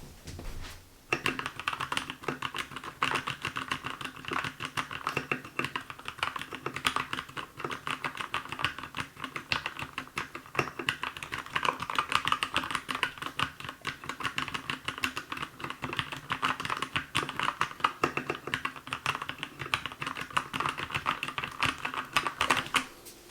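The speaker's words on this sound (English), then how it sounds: "you don't get a mechanical keyboard for just the looks, you also get it for the sound" Keychron K2 mechanical keyboard with brown switches being typed on steadily, a dense run of close, crisp keystroke clatter lasting throughout with no voices.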